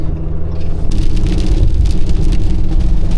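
Steady rain falls on a parked hotshot truck, a dense continuous patter on the roof and body with a low engine-like rumble underneath, fairly loud and unbroken throughout.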